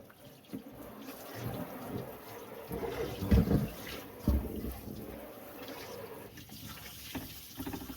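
Tap water runs steadily into a sink as a pan is rinsed, fairly quiet, with a few louder splashes partway through.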